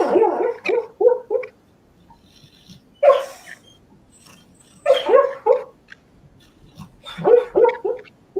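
A female dog barks and whimpers in her sleep in a series of short, loud yips and woofs that come in bursts separated by quiet gaps, close to the listener.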